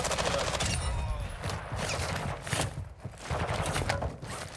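A sentry turret in Call of Duty Modern Warfare II DMZ fires rapid bursts of automatic gunfire, loud and continuous with brief gaps, while players talk over the shooting.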